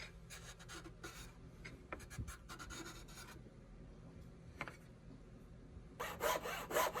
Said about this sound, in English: I cut out this part to its final thickness.